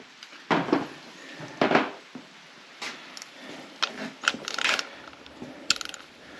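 A ratchet wrench snugs down a bolt and washer on a Ford 351 Windsor engine bay, giving short, close bursts of rapid clicking separated by pauses in a quiet room.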